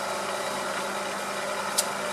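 Bobbin sander running steadily in a workshop, a continuous mid-level motor whine and hum with a brief sharp tick near the end, no voices.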